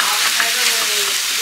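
Food frying in a pan sizzles with a dense, steady crackle, close and continuous throughout the short stretch.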